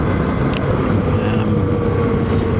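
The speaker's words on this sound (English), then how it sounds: "I am riding a Suzuki V-Strom 650" A Suzuki V-Strom 650 motorcycle is being ridden, a loud, constant engine drone buried in heavy wind rush, with no break from start to finish.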